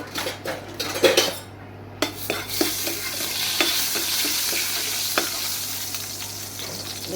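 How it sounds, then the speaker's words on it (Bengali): Chicken feet frying with salt and turmeric in a metal pan sizzle steadily and close up, with sharp clinks and scrapes of a spatula against the pan over the fry, and no talking. "নুন হলুদ দিয়ে আমি মুরগির পাটা ভালো করে ভেজে নেব"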